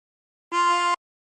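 One brief inhaled note through hole 12 of a tremolo harmonica, a clean reedy tone with dense overtones, held about half a second in silence.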